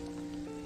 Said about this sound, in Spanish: Sigue la lluvia bastante fuerte